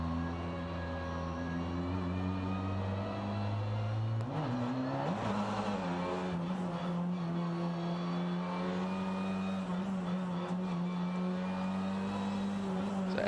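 A race car engine at the Macau race hums with a steady, sustained drone, with a brief rise in pitch partway through as it warms tyres and brakes, heard fairly distant and continuous.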